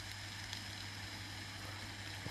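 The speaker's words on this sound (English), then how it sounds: "The sound you hear in the background is the rain for white noise." Steady rain played as white noise, a constant soft hiss with a low hum, faint and unbroken throughout.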